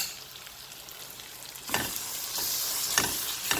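Spices are stirred into daal cooking in a pan, starting as a soft background then rising into close sizzling with scraping stir strokes.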